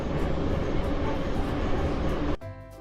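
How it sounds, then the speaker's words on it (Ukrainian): A subway metro train rumbles past with a loud, steady roar that cuts off abruptly near the end, leaving a fainter hum with a rapid mechanical ticking. "Підземний транспорт це метро."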